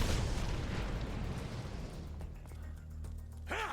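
A grenade goes off in the video game Dead Rising Deluxe Remaster: a loud, broad blast right at the start that rumbles and slowly fades over a few seconds, followed by quieter scattered game sounds.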